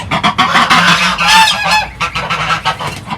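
Geese honking loudly and close by on a farm at the first release of the year's goslings, a dense run of overlapping harsh honks with no pauses.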